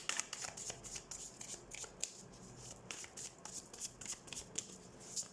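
Tarot cards are shuffled by hand in a quiet room, giving a soft, continuous riffling and flicking with quick repeated snaps and light brushing, close and clear with no talk over it.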